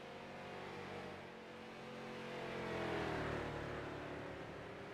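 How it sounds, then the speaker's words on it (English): Street stock race car lapping the Charlotte Roval racetrack, a steady engine drone that swells as it revs up and passes, then eases back, with no talking over it. "Keeping that car nice and pinned to the bottom of the racetrack."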